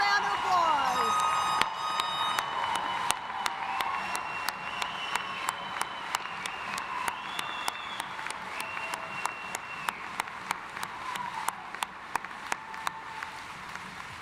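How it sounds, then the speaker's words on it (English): A commencement crowd in an arena applauds the graduates, a broad roll of clapping that eases down over time while sustained musical tones ring through it, with scattered sharper claps standing out. "so will everyone join me giving these grads a round of applause."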